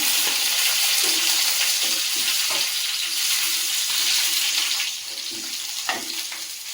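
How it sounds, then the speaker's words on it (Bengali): Nigella seeds and slit green chillies fry in a frying pan with a steady, hissing sizzle. Faint stirring clicks and taps sit under the sizzle, close and even throughout. "ফ্রাই প্যানেই রান্নাটা করে নিচ্ছি আর দিয়ে দেবো কাঁচা লঙ্কা চেরা"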